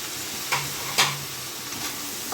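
Brinjal (eggplant) sautéing in a pan with tomato, a steady soft sizzle with a few sharp spoon or spatula scrapes against the pan, close and alone.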